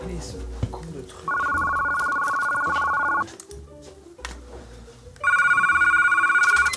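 An electronic telephone ringing in two clear bursts, a steady trilling tone repeated with a pause between, loud and close amid scattered background sounds.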